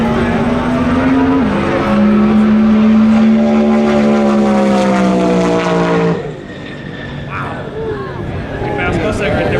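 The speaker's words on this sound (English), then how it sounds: "Pretty sure there's that twin turbo Mustang." A twin turbo Ford Mustang races down an airstrip, its engine rising loudly in pitch through the gears, then the note drops off as it passes and fades into the distance while people talk nearby.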